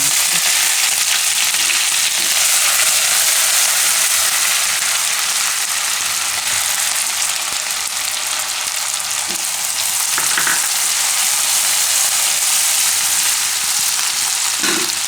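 Ginger, chili, garlic and turmeric frying in hot oil with cumin, a loud, continuous close sizzle that crackles steadily throughout, with occasional faint stirring and no talk.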